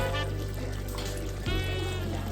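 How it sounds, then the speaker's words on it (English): Water poured into a pot of Jamaican curry goat simmering on the stove, a steady trickle and splash that shifts in tone partway through, with no talking. "then put some water in it"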